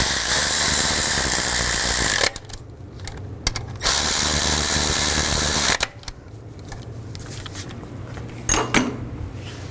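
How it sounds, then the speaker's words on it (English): A ratchet tightens bracket screws during a valve cover job on a 2005-2015 Nissan Xterra, with fast loud clicking runs broken by pauses and short clanks, close up with no talk. "Put the 2 screws in. Tighten those down."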